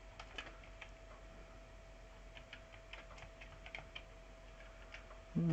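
Faint, scattered clicks of computer keys pressed on an Amiga sound close but soft against low background hum, with a few quick taps then gaps.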